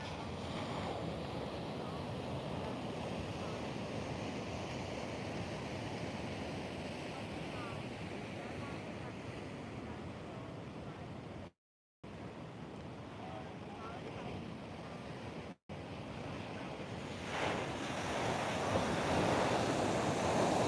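Ocean surf from pre-hurricane swell pounds the beach beside the pier at Nags Head, a continuous loud roar of breaking waves with wind buffeting the microphone, broken by two brief dropouts.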